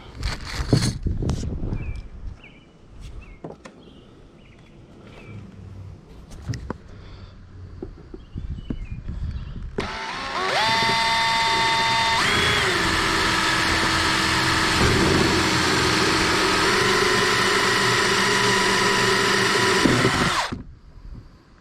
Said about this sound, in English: So let's go ahead and let's get this drilled.